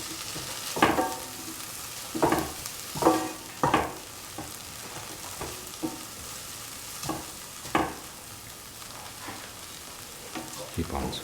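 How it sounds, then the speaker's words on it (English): Red spinach rice being sautéed in a pan, with a steady background sizzle broken by irregular scraping and stirring strokes of a spatula, some of them sharp and fairly loud. "Keep on sauteing."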